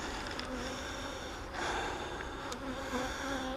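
Bees buzzing inside a hive box, a steady faint insect drone that stays even throughout with no voices.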